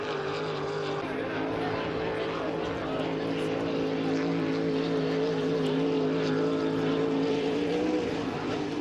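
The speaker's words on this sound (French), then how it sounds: "Un bateau qui a été fait par Peter Reed en 1998" A steady, droning engine roar from an H350 racing hydroplane built in 1998, during time trials at Valleyfield, constant and fairly loud, with faint voices underneath.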